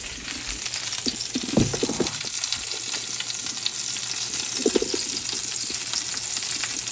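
About a pound of protein sizzling in a skillet, a steady close crackling fry with a couple of brief stirring scrapes and clinks, loud and unbroken, no voices.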